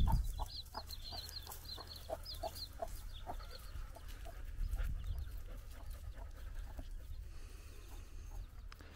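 Half-wolf dogs pant rapidly and steadily close by on a homestead in Andalusia, Spain, while chickens cluck softly in the background.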